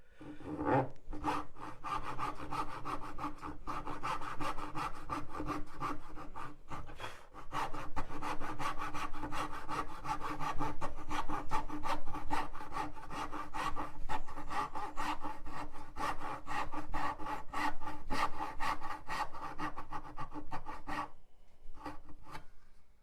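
A hand saw cuts dovetails in half-inch softwood with a continuous rhythmic rasp of close strokes that runs almost unbroken, easing off briefly near the end.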